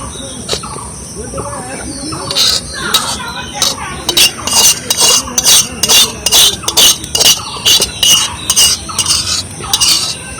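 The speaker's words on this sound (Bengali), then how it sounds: "এবার ছাঁকনি দিয়ে ছেঁকে নেবো।" A spoon presses and scrapes a boiled hair-dye mixture through a metal sieve, with rapid rhythmic clinking and rasping strokes close up, a soft voice and faint birdsong in the background.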